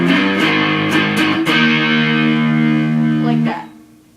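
Distorted electric guitar plays a few power chords from a song's bridge. Several short stabs lead into one long sustained chord that rings out, then cuts off and fades near the end. It is loud and close.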